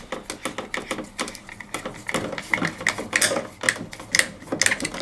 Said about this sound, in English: I'm now going to tighten up the screw.